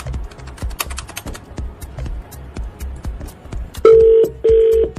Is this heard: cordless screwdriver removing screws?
no